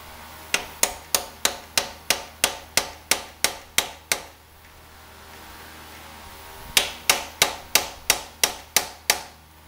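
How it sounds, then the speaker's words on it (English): Hammer blows strike a broken bolt head to snap it off, two fast regular runs of about ten sharp metallic hits each, separated by a short quiet pause, close and loud with no talking. "I'm going to try to hit this for a minute."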